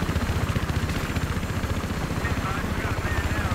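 A helicopter in a video game thrums with a steady, fast rotor chop at close range, loud and constant, with a player talking over it.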